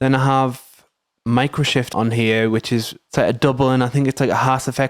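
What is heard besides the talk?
No distinct noise like a dog, phone or traffic.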